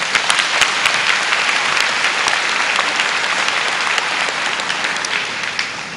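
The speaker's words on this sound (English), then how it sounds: "Please give them a round of applause." A large crowd in a high school graduation ceremony hall gives sustained, even applause that holds loud and steady throughout, with no one talking over it.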